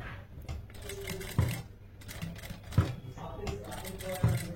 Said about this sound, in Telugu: ఇలా మనం స్టిచ్చింగ్ చేసేసుకుందాం.